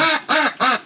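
Three loud, close quacks from a young Peking duck about two weeks old, each call a harsh nasal burst of roughly a quarter second, spaced evenly in a steady rhythm.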